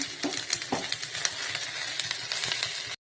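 A utensil stirs mustard greens and eggplant in a hot pan, giving steady close sizzling with scraping strokes for a few seconds before stopping abruptly.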